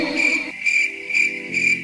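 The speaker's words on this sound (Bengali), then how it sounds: "অন্ধকারে শুধু কানে ভেসে আসছে ঝিঝি পোকার ডাক।" Crickets chirp in the dark, quiet surroundings of an old school building at night: a steady high trill rising in four regular pulsing bursts, fairly close and alone, with no voices.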